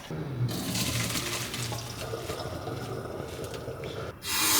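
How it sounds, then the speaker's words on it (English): Cold tap water runs steadily over freshly boiled chow mein noodles draining in a colander, a continuous close splashing rush that cuts off near the end before a brighter burst of noise. "we're gonna drain this and we're gonna use cold water to rinse the noodles"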